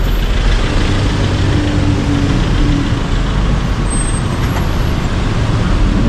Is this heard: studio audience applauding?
no